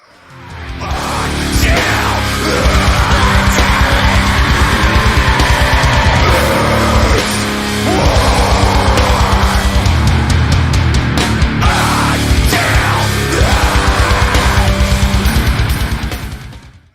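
Loud, raw hardcore punk with dense, distorted heavy guitars and pounding drums playing continuously, with brief breaks in the riffing.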